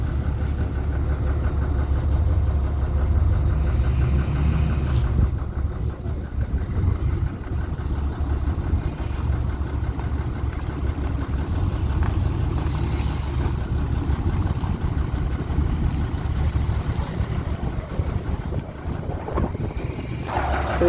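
An International dump truck bought at auction runs on its DT466 diesel engine, giving a loud, steady, deep rumble that carries on unbroken for about twenty seconds with no one talking.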